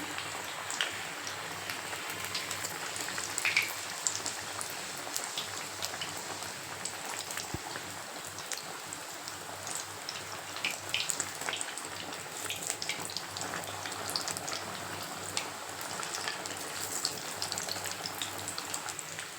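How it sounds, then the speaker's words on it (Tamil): Green gram vada frying in oil over a low flame, a steady dense crackling sizzle that holds evenly and close throughout with no talking. "இப்போ இந்த வடையை எடுத்து அதில் போட்டுடலாம் எண்ணெய் வந்து ரொம்ப லோ ஃப்ளேம்லேயே இருக்கட்டும்ங்க"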